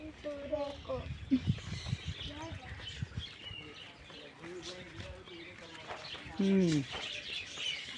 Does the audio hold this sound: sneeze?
no